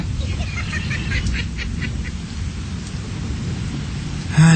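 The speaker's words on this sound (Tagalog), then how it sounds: "Bumabagyo na." A thunderstorm with heavy rain makes a low, continuous rumbling roar with steady rain hiss, while people talk faintly in the background.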